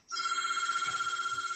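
A telephone rings steadily and loudly as a continuous electronic bell tone, starting abruptly and holding with a slight warble throughout.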